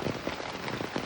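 Steady rain falls on an umbrella and surroundings outdoors in Assam during flooding near elephants, a dense close patter with soft rhythmic thuds of drops, loud and continuous with no talk.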